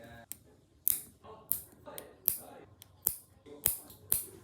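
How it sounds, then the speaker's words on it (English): Toenails being clipped straight across during an at-home French pedicure, a series of sharp, distinct snips at a fairly even pace, close by with quiet handling noise between cuts. "You want to cut it straight across all toenails."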